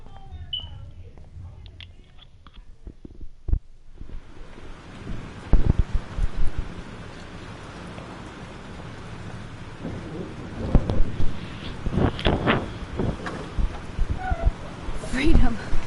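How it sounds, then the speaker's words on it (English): Thunderstorm in the game Life is Strange: steady rain and wind hiss under repeated cracking thunder claps and rumbles, loud bursts recurring after a quiet opening. "This storm is real."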